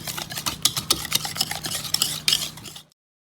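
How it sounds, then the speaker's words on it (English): A whisk beats an egg mixture into dry ingredients in a bowl for Southern corn pudding, producing brisk, close, scraping and tapping strokes in a quick uneven rhythm that stop abruptly into silence. "egg mixture and whisk it into our dry ingredients that we had mixed up earlier"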